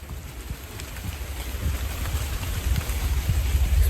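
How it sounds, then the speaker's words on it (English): Rain falls steadily around a tent at a campsite, a dense soft patter with low rumbling gusts, gradually growing louder, close and unbroken, with no voices. "It'll be just the rain anyway."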